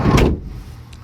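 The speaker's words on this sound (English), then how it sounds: "Door." A door on a 2020 Nissan NV200 S mini cargo van shuts with one loud, close thud followed by a short fading rumble, with a faint click near the end.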